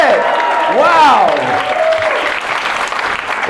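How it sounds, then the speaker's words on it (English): A comedy festival audience in a packed New York club claps and cheers loudly. The applause swells and then thins out, and a voice talks briefly over it. "Guys, clap it up for yourself for packing this bitch out tonight."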